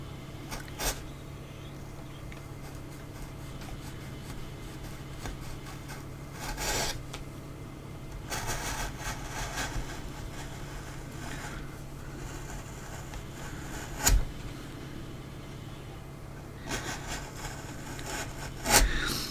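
Hand tools carving a wooden dragon, with steady faint rasping and rubbing strokes over a low constant hum, punctuated by a few sharper knocks and scrapes.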